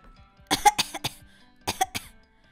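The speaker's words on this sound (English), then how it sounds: "could you please stop coughing on my computer?" A person coughing in a computer lab, two rapid bursts of several harsh coughs each, close and loud, with quiet gaps between.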